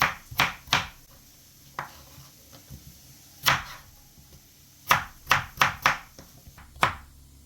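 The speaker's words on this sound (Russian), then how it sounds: "И нарезаем кабачки, молодые кабачки." A knife chops young zucchini into cubes on a board, about a dozen sharp close knocks spaced irregularly, some in quick runs and some alone, with quiet pauses between and no talking.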